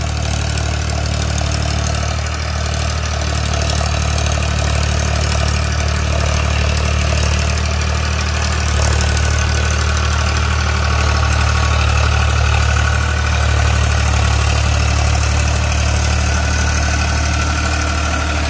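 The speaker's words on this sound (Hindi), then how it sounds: "मेरे हिसाब से ट्रैक्टर बिल्कुल फ्री चल रहा" A tractor engine runs steadily at a low, even idle, its deep rumble and vibration continuous throughout with no voices.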